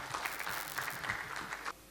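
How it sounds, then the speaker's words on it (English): Soft, distant applause from a conference audience honouring a speaker at a morning medical session, a thin patter of clapping that stops abruptly near the end. "I think the speaker deserves a round of applause."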